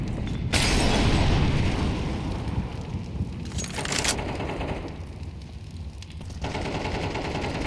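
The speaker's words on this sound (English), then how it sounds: "I'm throwing a grenade." Grenades and gunfire in a Counter-Strike 2 match on the Ancient map: a loud, dense burst of blasts and shots opens the clip and continues with rumbling bursts, with no talk.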